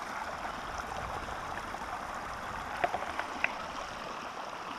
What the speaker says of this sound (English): This is the Maligne River